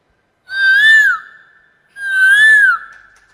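A child whistles two drawn-out, rising-and-falling calls, imitating a cuckoo, clear and close with a short pause between them, on a stage show.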